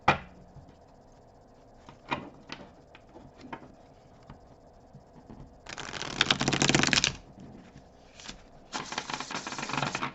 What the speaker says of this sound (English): I'm going to give the cards a quick shuffle